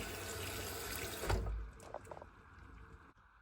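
Running water splashes steadily from a tap over fish being washed, with a brief louder gush, then stops, leaving a few faint drips and clatters.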